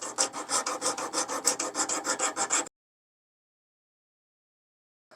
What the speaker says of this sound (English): Now I'm going to take it over to the sander, sand down to those lines.